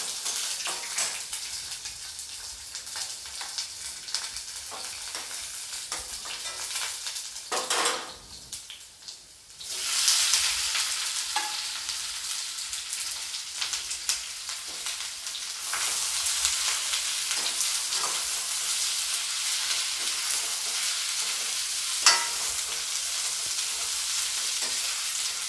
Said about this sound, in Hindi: इन सभी चीज़ों को हल्का सा भूनने के बाद मैं डाल दूंगी प्याज।